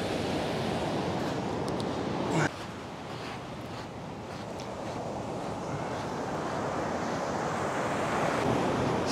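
Surf rolls and breaks steadily at Rialto Beach on Washington's Olympic Peninsula, a constant broad wash of waves with wind buffeting the microphone and a sharp crash near the middle, no voices over it.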